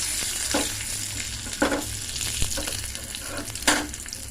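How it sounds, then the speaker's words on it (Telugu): Spice tempering with asafoetida sizzles and crackles in hot oil, a steady frying hiss broken by several sharp popping bursts and occasional stirring sounds. "ఇగో తాలింపు బాగా వేగిపోయింది"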